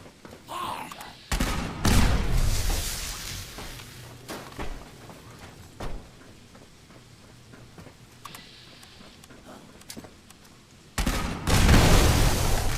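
Loud booming cannon shots from a video game on PS5, firing cannonballs, with a few heavy blasts near the start and end and sparse thuds and clatter between.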